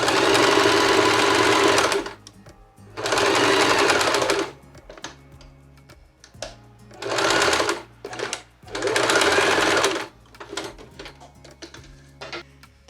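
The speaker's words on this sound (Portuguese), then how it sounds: "Vou costurar até o pontinho ali da costura, então até a abertura." Sewing machine stitching a seam on a tablecloth, running in four loud bursts of about one to two seconds each, separated by pauses filled with quiet handling noises and faint clicks.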